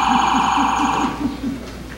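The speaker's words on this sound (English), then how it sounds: "toy fire engines," A toy fire engine gives a steady electronic siren-like tone with a pulsing, warbling rhythm underneath, loud and close, fading slightly near the end.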